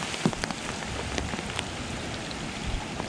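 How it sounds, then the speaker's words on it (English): Light rain falls steadily outdoors at an abandoned marina shoreline, a soft continuous patter with a few distinct drop ticks, alone without talk. "it's just little little bubbles of rain"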